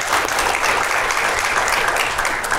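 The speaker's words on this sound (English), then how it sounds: "Can we get everybody on the panel a round of applause for participating and being with us?" An audience at an agricultural conference session gives steady, dense applause for a panel, sustained and fairly loud throughout.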